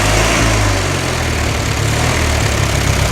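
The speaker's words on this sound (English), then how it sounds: "But I got this engine running actually." A racing lawn mower engine under rebuild runs loud and close, a steady low rumbling drone with a constant idle throb throughout.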